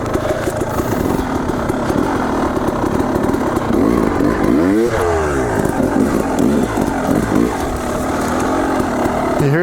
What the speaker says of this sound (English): Okay, so listen to the bike here, what I'm doing.